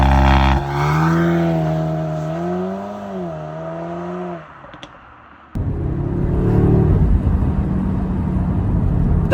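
A 2022 Audi S3 Sportback driving on the road, the engine rising and falling in pitch as it accelerates, dipping briefly, then surging back into a loud, steady drone of engine and road noise.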